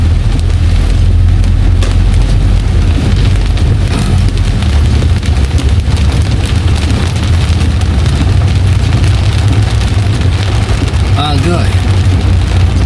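Heavy rain pounds steadily on a moving car, a dense continuous wash of drumming over a low engine and road rumble, with someone talking intermittently above it.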